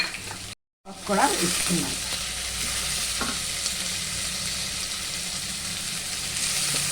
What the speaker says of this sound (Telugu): ఇలాచీ, యాలకులు వేసి ఫ్రై చేసుకో. అయిపోయి కదా, కరివేపాకు కూడా, ఉల్లిపాయలు వేసుకుంటున్నాం